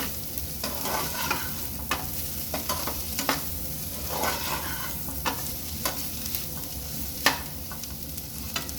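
Egg bhurji sizzles in a pan while a spoon stirs it, with repeated scraping strokes and taps against the metal over a continuous close frying hiss.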